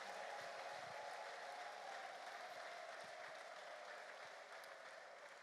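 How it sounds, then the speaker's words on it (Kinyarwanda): A church congregation claps in a steady, dense wash of applause, fairly distant and soft, slowly fading toward the end with no voices on top. "dukomere Yesu amashyi tumuhe n'icyubahiro"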